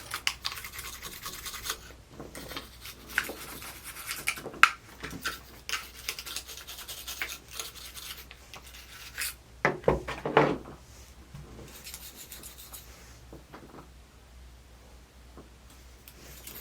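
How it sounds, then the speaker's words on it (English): Stiff brush scrubbing dirt and grime from a Glock 45 pistol, giving close, dry scratching strokes in uneven bursts with short pauses between passes. "First I'm gonna brush it. Get all the dirt, grime out of it."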